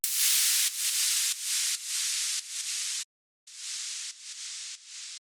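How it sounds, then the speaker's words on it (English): A noise riser built into a drum beat, swelling hiss in a series of chopped segments that each ramp up in loudness, with a brief gap of silence midway before the cut pieces resume, loud and alone. "So first we have this like riser thing."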